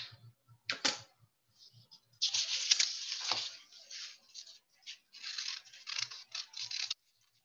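Scissors cutting paper into V-shaped kite pieces at a craft table, giving a few quiet separated snips followed by longer crisp runs of slicing and rustling paper, close by with no talk.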